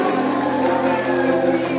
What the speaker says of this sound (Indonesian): Boleh berikan tepuk tangan yang paling meriah